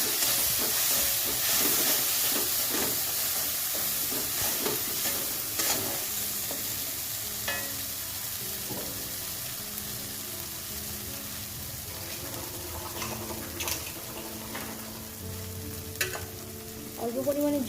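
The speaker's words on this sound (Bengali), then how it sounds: "অল্প পরিমাণে জল দিয়ে মশলাটা খুব ভালো করে কষিয়ে নেব" A spice paste of peanut, poppy seed and mustard fries and sizzles in a pan while a spoon scrapes and stirs it in repeated strokes, a continuous close hiss broken by clinks near the end.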